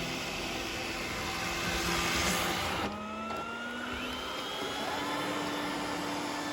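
An iRobot Roomba S9+ robot vacuum, after a 3.12.8 software update, runs across a floor threshold with a steady whirring motor drone that shifts pitch midway as it bumps over the edge and carries on.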